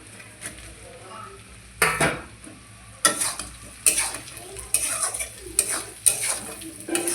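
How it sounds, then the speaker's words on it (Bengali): Fish roe stirred into a pan of fried onion and chili paste, faint sizzling under a series of sharp spatula scrapes and clinks against the pan, irregular and close. "এবার আমি মাছের ডিমগুলো এতে দিয়ে দেবো।"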